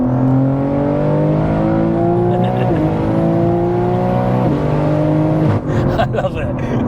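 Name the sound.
1000+ BHP single turbo BMW G80 M3 downshifting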